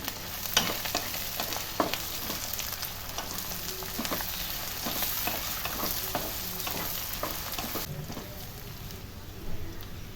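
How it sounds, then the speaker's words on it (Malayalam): Ginger, garlic and green chillies sautéing in a pan for a beef pickle, a steady close sizzle with repeated scraping stirs throughout, the frying hiss continuing evenly. "ആ ഇഞ്ചി വെളുത്തുള്ളിയുടെ ഒന്ന് ഒരുവിധം മൂക്കുമ്പോൾ ഒന്ന് വഴറ്റിയെടുക്കാം അതിൻ്റെ കൂടി പച്ചമുളകും ചേർക്കാം"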